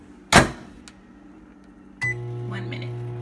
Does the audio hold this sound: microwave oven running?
yes